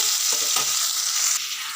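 Potato and eggplant fry together in a pan, a bright steady sizzle heard close, with faint stirring scrapes in the first half.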